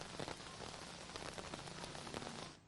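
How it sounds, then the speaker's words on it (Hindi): Steady, dense rain pours down and patters on a hard surface, loud and continuous with no voices, then cuts off abruptly at the very end. "बारिश गोवा में भी हो रही है"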